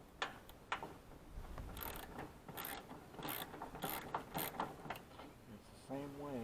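A wrench ratchets on a 9/16 bolt during steering shaft replacement on a 2006 Troy-Bilt riding mower, giving quiet, uneven clicking in short bursts against faint background noise.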